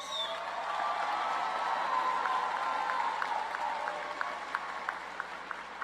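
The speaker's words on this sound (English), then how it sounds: "Please join me in giving these individuals a rousing, warm applause." Warm applause from a commencement audience at a winter graduation ceremony, steady dense clapping filling the hall throughout, thinning toward the end into a few distinct claps.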